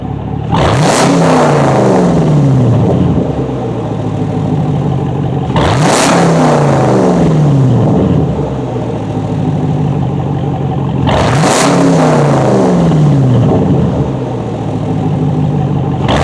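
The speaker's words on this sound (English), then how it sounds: "Today we're going to do a Camaro SS straight piped from the cats." Fifth-generation Camaro SS V8 straight piped from the cats with muffler and resonator deleted, revving hard three times in a row, loud and close with a raspy roar settling back toward idle between pulls.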